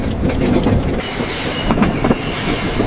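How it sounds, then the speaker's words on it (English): A train rolls along with a steady rumble and rhythmic clacking of wheels on rails, plus faint high squeals, loud and close. "The train is on time."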